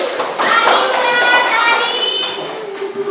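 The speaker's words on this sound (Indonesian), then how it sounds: "Oke, tepuk tangan buat kelompok 2." Classroom students clapping for group 2 after their presentation on aquatic ecosystems, a dense burst of small hands with children's voices mixed in, fading toward the end.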